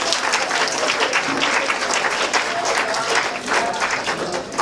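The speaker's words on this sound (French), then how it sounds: "Applaudissez-vous, s'il vous plaît." Sustained audience applause at a Black History Month closing event, dense and steady for several seconds with no speech over it.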